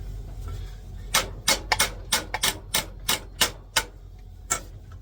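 A series of about a dozen sharp metallic hammer strikes on a Riga moped comes at an uneven pace, crisp and close, over a quiet low background hum.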